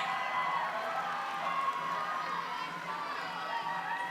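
Crowd at a men's bouldering semi-final in Salt Lake City cheering and shouting continuously, a dense, steady wash of many voices at moderate loudness from start to end.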